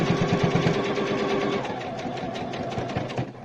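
A sewing machine stitches a straight seam on a quick fabric face mask made without elastic, its needle chattering in a fast, even rhythm that eases off slightly partway through, up close and alone.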